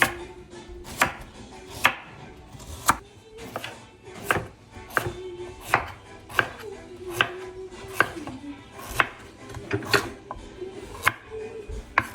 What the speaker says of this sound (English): We're gonna chop them up into bite sizes.